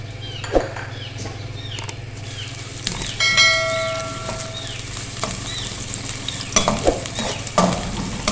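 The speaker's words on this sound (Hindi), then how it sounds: "अब इसमें डालेंगे हम अपनी अदरक, इसको थोड़ा सा फ्राई करेंगे हम।" Ginger sizzles in a generous pour of oil, a steady frying crackle with occasional spoon scrapes, a brief bell-like ringing tone partway through and a low hum beneath.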